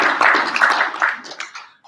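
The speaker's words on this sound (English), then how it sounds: "give Ace a round of applause" A small live audience at a toy fan event claps for a guest named Ace, a brief close burst of clapping that fades out after about a second and a half.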